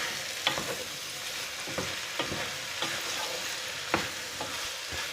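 Beans being stirred in a frying pan after salt goes in, a steady soft sizzle broken by several sharp spoon scrapes and knocks against the pan, with no talking.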